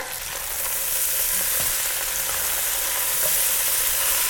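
Kale soup ingredients in a pot give off a continuous loud sizzle with light stirring sounds, steady from start to finish and with no talking.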